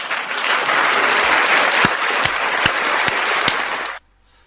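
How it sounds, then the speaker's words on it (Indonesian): A group applauds, a full, even wash of clapping held for about four seconds with a few sharp claps standing out near the end before it cuts off abruptly into quiet. "Tepuk tangan dulu"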